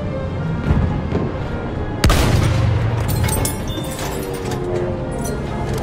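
A bomb explodes in the video game Battlefield 1 with one sharp, loud blast partway through, set against a constant wash of battlefield gunfire and rumble.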